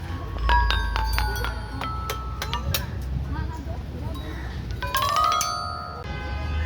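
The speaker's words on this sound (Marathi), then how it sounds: "तर याला म्हणतात झायलोफोन" Xylophone rods at a science centre exhibit are struck one after another, each ringing at a different pitch, with a quick run of several bright notes and a second burst later, over a busy indoor background.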